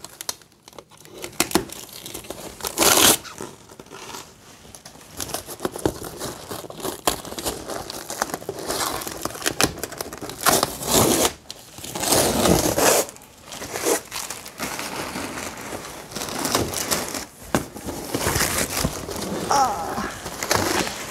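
Cardboard book package being torn and crinkled open by hand, with repeated bursts of ripping and rustling packaging close by and some quiet movement between them.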